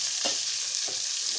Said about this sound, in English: to make the onion get to oil so that it's fried